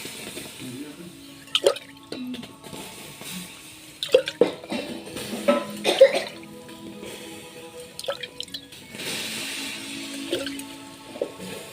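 Water is poured into a wood-fired clay chulha to put out the fire, making intermittent splashes, drips and brief hisses in uneven bursts, with faint voices in between.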